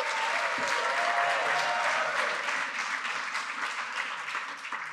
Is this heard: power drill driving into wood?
no